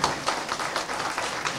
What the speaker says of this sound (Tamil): கைத்தட்டுங்க இந்த தெய்வத்துக்கு.